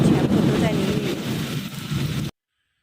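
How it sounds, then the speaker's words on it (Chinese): Heavy sudden rainstorm with strong wind on a balcony with potted succulents, a dense roaring wash of rain and gusting wind buffeting the microphone, loud and continuous before cutting off abruptly. "昨天的雨真的好大呀，我就拍了一小段。 那一直在打雷"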